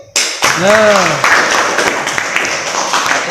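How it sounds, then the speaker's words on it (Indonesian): Classroom participants applaud a student group after its presentation, with a brief voice at the start before a burst of close, scattered clapping fills the rest. "Beri tepuk tangan dulu untuk"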